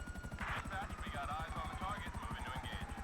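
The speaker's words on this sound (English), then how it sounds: "Somehow only 1 star despite having this attack helicopter and shooting missiles" An attack helicopter flying in GTA 5, its rotor chopping steadily in a fast rhythmic thud, while a voice talks faintly over it.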